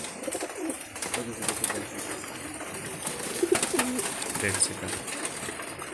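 Pigeons coo softly in short repeated bursts while getting wet outside in the rain, over steady rain hiss, with no clear talk.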